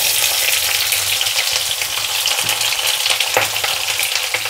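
Chopped onion pieces and garlic fry in hot oil with a loud, steady sizzle and crackle that fills the whole stretch, with faint stirring underneath.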